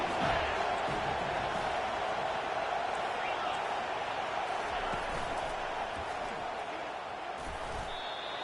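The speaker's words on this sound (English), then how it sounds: "This crowd rising up, sensing that its defense needs some help." Football stadium crowd roaring steadily throughout, a dense, sustained wash of massed voices rising to back the home defense, loud and continuous with no individual speech standing out.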